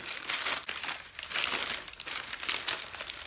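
A crinkly plastic package being torn and pulled open, with continuous loud crackling and crumpling close by.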